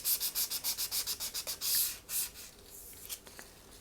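Rhythmic back-and-forth sanding strokes along the outer edge of a small 100-yen-shop picture frame, about a dozen quick close rubs followed by a longer scrape and quieter fiddling, with no talk.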